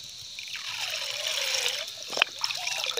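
Water pours and trickles into a bucket as fertilizer is mixed in for eggplant, a continuous close splashing with a brief sharper slosh near the end and no talking.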